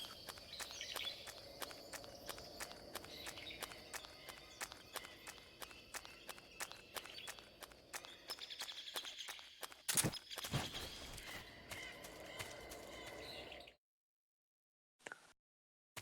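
Footsteps from the video game Metal Gear Solid 3, a steady run of regular close steps through most of the stretch with a couple of sharper louder hits near the end, then near silence.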